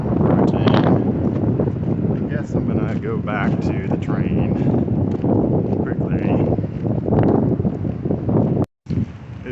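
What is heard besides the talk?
strong wind before thunderstorm, dust storm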